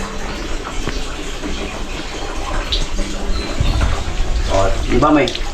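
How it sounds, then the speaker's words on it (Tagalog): Tap water runs steadily into a kitchen sink with a continuous hiss and splash, and a voice breaks in briefly near the end. "Iba talaga pag may tubig na mismo dito sa lababo."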